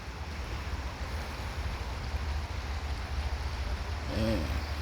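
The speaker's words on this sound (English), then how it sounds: "Yeah, just hearing that water flow, man." Water flowing steadily outdoors in calm, mild morning weather, a broad continuous wash with low rumble and some wind noise, plus a brief voiced sound near the end.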